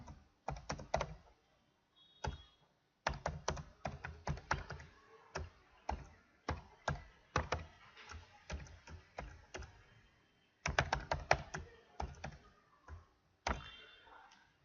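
Clicky computer keyboard typing comes in quick bursts separated by short pauses, close and fairly quiet, as code is entered during a Python programming lesson.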